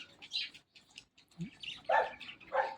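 A puppy gives high, squeaky yelps and whimpers in short bursts, with a couple of louder yips near the end. The sounds are close and moderately loud, with quiet gaps between them.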